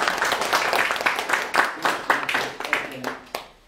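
An audience at a talk on lighting gives a round of applause, a dense burst of clapping that thins out and fades over a few seconds.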